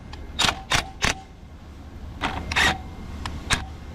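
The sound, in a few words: socket wrench tightening bolts on sawmill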